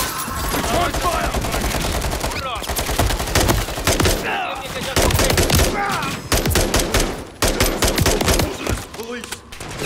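Dense, continuous gunfire fills a Call of Duty: Modern Warfare III campaign firefight, with loud rapid automatic bursts and overlapping shots nearly without pause, and shouted voices mixed in throughout.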